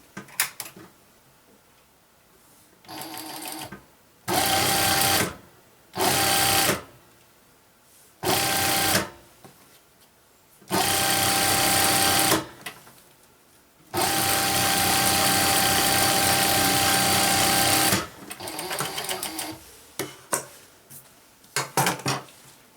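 A sewing machine stitches fabric in a series of short, loud bursts, followed by one long continuous run and a few quicker stops and starts near the end.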